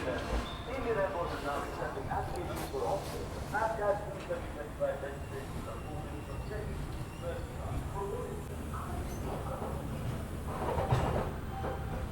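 The Simhapuri SF Express pulls out of Kazipet station after a long halt, its steady rolling rumble and faint wheel clatter running throughout beneath a voice talking.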